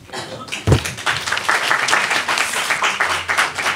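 Applause from an audience at a Jewish community gathering sharing good news, many hands clapping in a steady dense wash throughout, fairly close, with a brief low thump near the start.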